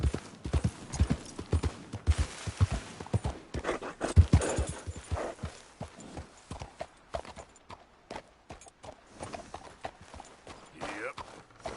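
Horse hooves clip-clop at a gallop in the video game Red Dead Redemption 2, a fast, steady drumming rhythm with brief snorts, while a person talks over it.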